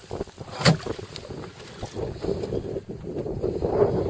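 Wind gusting across Lake Taneycomo during winter fly fishing, rushing and buffeting the microphone in uneven surges with low water wash beneath, no talk.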